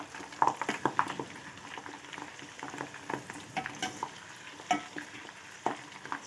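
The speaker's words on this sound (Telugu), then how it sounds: "ఒక చిన్న స్పూన్ తీసుకొని దీనిని బాగా కలుపుకోవాలి" Hibiscus flowers in oil stirred with a small spoon over a medium flame: gentle, steady frying crackle with repeated light spoon clicks and scrapes close up, no talk.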